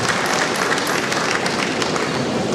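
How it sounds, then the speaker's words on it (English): An audience at an honorary doctorate conferment ceremony at Lead City University claps in a dense, continuous patter. The applause stays fairly loud and steady throughout, with no voices rising above it. "It's another applause."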